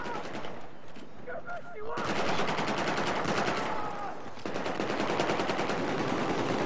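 A heavy machine gun fires in long sustained bursts in Battlefield 4, loud and close, with a short pause before a second stretch of rapid fire; voices talk briefly over it.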